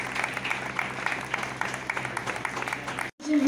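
Applause rings out at a school event as the Governor of Goa is welcomed, steady crowd clapping mixed with an amplified announcer's voice, cut by a brief dropout before speech resumes.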